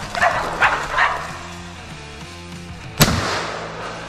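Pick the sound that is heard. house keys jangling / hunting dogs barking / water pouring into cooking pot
hunting dogs barking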